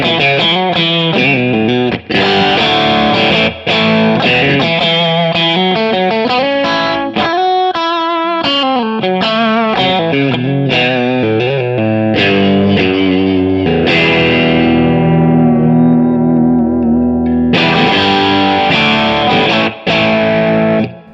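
An electric guitar runs through a Bogner Wessex overdrive pedal with its enhance knob engaged, so loud distorted chords and riffs play continuously with fuller bass and extended highs.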